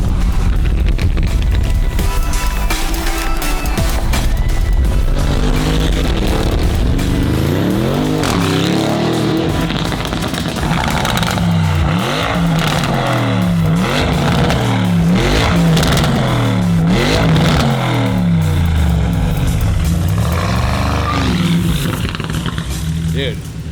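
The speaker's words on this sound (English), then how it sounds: "We got that new exhaust. I'm gonna go drive this thing around a bit." A Bentley running a new exhaust and nitrous revs hard while being driven, a loud, continuous roaring engine with repeated rising and falling swells as it accelerates and lets off.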